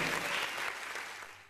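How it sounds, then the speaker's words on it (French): A classroom audience of schoolchildren claps for a student at a primary-school quiz, a dense, steady burst of applause that thins slightly toward the end. "Des applaudissements, s'il vous plaît, pour lui."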